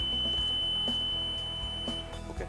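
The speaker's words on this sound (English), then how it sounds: "Beep sound is heard." A steady electronic beep tone sounds continuously from an electronic voting machine nearby as a vote registers, high-pitched and unbroken, with faint low background hum.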